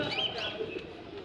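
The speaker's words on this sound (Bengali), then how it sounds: "এখানেও অনেক সুন্দর কবুতর আছে" Fancy pigeons coo softly at a busy pigeon market in Bangladesh, a few brief low calls against faint background bustle.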